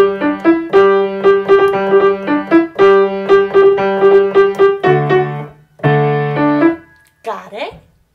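A simple melody is played on piano, note by note in a steady rhythm with short pauses, ending with a brief voice.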